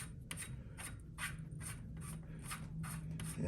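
A rim choke adapter being screwed onto a rifle barrel makes rhythmic, repeated metallic rubbing and scraping strokes, about nine quick turns at close range and low level, with no talking.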